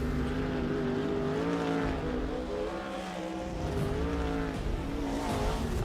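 Sprint car engines drone steadily at a distance, their rising and falling harmonic tones overlapping into a continuous racing roar.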